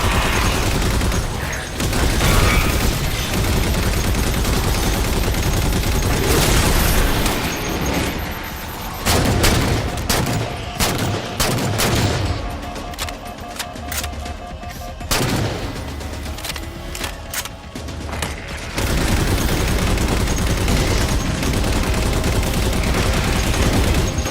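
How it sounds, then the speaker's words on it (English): Sustained turret gunfire in Halo 4 on a Legendary mission, a dense continuous roar of rapid shots that pauses briefly midway before resuming, loud and close throughout. "If your shield goes down, hop off the turret, wait for it to recharge, and then keep shooting."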